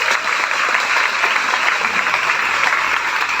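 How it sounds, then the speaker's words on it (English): A graduation ceremony audience clapping loudly and steadily, a thick continuous wash of hands from a big crowd held at even strength throughout. "give your loudest clap to them too."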